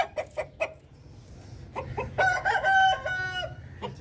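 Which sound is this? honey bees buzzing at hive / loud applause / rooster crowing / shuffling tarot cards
rooster crowing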